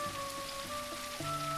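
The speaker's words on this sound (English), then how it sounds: "And it's very rainy today." Steady rain falls in the cozy shop sim Teddy's Haven, a constant hiss under soft sustained background music tones.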